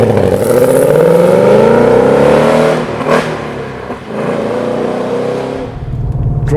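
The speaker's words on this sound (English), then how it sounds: "the 5 litre V8 under the bonnet, and it's one sweet motor" A 2025 Ford Mustang GT with its 5-litre V8 revs loudly and close, the engine note climbing through a long pull, briefly dropping off, then settling into a steady throaty run.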